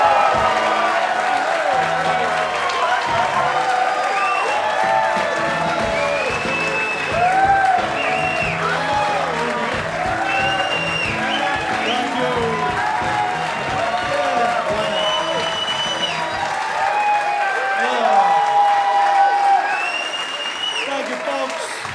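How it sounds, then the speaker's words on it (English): Big theatre applause and cheering for comedian Colin Quinn at The Den Theater in Chicago, a sustained roar of clapping with whoops and shouts rising and falling across the crowd. "Please start clapping right now for the one and only Colin Quinn"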